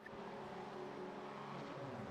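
Race car engines in iRacing rallycross, RX1 sprint qualifying on the grid: a steady, faint drone of engines held at rising revs, with no talk over it.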